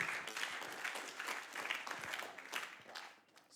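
Worshippers at a church gloria festival clap and applaud steadily, a dense, continuous patter of many hands with a few scattered cheers, fading slightly toward the end.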